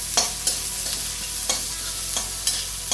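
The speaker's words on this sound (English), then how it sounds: "This is all happening on high flame, so just mix it a bit like this." Onions frying on high flame in a pan for Indo-Chinese veg fried rice, with crisp spatula scrapes landing every half second or so over a constant sizzle.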